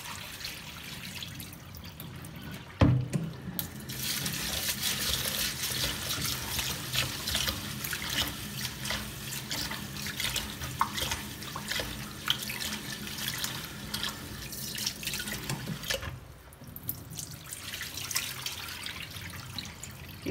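Rice for idli is rinsed under a running kitchen tap, a steady splashing trickle of water with a sharp knock near the start and a brief dip in flow toward the end.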